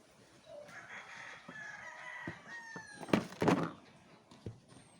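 Chickens cluck and a rooster crows nearby, with scattered knocks and clatter in the background.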